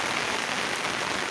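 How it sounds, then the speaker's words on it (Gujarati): Heavy monsoon rain pours down steadily in the Gir countryside, a dense, continuous hiss with no let-up and no voices over it. "તો અટાણે તો ફૂલ વરસાદ પડે છે"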